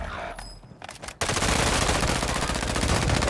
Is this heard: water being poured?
no